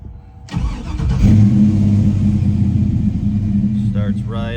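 A 1968 Camaro with an LS engine swap and a Summit grind cam cranks and fires up after a quiet moment, settling into a loud, steady, rumbling idle close by, with a voice briefly heard near the end.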